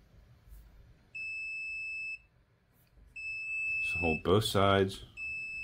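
A buzzer on a SUNLU filament connector gives two sustained, steady electronic tones, then a third starts as a voice speaks over it, close and clear.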